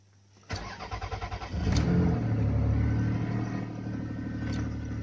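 A Toyota Camry Gracia engine cranks with a quick, rhythmic starter whir, catches, then settles into a steady, close, rumbling idle.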